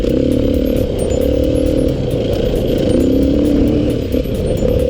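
A Beta RR480 four-stroke enduro motorcycle engine revs hard and continuously, a loud, close, steady roar with slight rises and dips as it rides an enduro loop.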